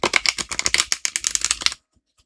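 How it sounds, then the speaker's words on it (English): Riffle-shuffling a stiff new oracle card deck gives a quick close run of crisp flutters and clicks that lasts under two seconds and then stops abruptly. "So I'm not sure how these are going to shuffle."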